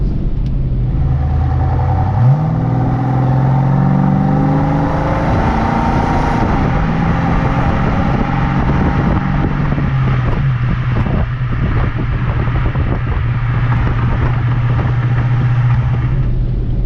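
A 5-liter V8 engine in a 1986 Mercury Capri ASC McLaren convertible hums steadily with a low rumble as the car accelerates and cruises, wind rushing faintly over the open cabin.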